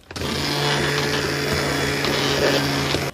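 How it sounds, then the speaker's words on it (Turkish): Electric blender whirring steadily as it purees tomato soup, a loud, close motor drone that starts abruptly and cuts off after about three seconds. "Çorbamızı pürsüz bir kıvam alana kadar blenderdan geçirelim."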